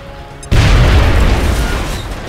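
A grenade goes off in the XCOM: Enemy Unknown video game with one sudden loud boom. A dense rumbling blast follows and slowly fades.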